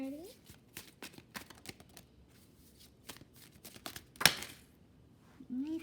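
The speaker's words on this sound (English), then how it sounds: "Let's keep shuffling here." A deck of tarot cards being shuffled by hand during a reading, producing repeated crisp riffling bursts and flicks close up, with one louder slap partway through and a voice talking briefly.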